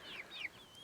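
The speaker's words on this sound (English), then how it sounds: "I don't think she realizes she's a chicken." A layer hen clucks softly nearby, giving two short rising-and-falling calls in quick succession, followed by a faint thin tone, with no talk.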